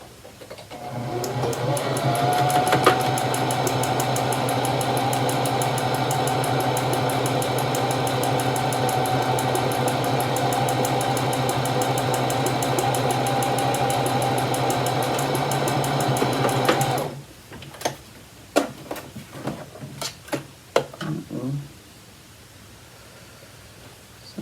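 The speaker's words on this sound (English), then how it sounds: "Let me sew the other one, see if it does that." Home sewing machine stitching fabric for a McCall's 8112 pattern in a steady, continuous whirring run of about fifteen seconds, then stopping, followed by scattered clicks and handling noises.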